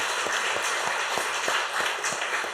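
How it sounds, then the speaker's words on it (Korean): Church congregation applauding middle and high school students and teachers at a Sunday evening dedication service, a fairly steady, moderately loud wash of clapping with no speech. "우리 박수 한번 힘차게 더 하십시다."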